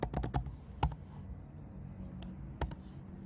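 Typing on a computer keyboard, a few quick close clicking keystrokes in short bursts with a pause between, alone and fairly quiet.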